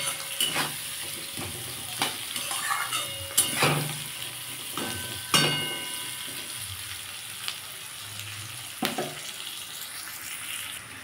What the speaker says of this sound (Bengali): আমার আলুটা পেঁয়াজটা লাল লাল করে ভাজা হয়ে গেছে